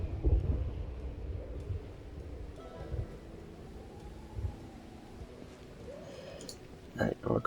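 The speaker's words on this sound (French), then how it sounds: "c'est chaud là, il y a de l'orage." Thunderstorm in the zombie survival game Project Zomboid: low thunder rumbles and rain-like patter, with a couple of sharp clicks near the end, moderately quiet throughout.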